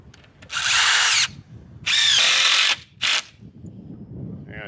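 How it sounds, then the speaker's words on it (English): A power drill drives screws into wooden tomato stakes outdoors, three loud whirring bursts, the first two long and steady, the last short, with quiet background between. "Get some screws in there to hold it."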